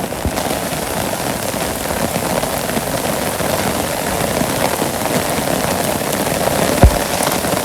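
Steady rain falls over a Bangladeshi village, a dense, even hiss of drops on surfaces that holds at the same level throughout, with one brief louder knock near the end.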